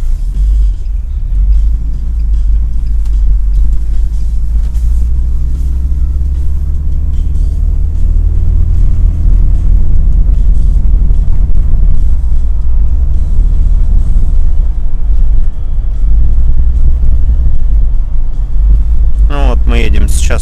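A UAZ off-road vehicle pushes through deep snow at a little over 40 km/h, its engine a loud, steady low rumble that holds throughout, with a brief higher whine near the end.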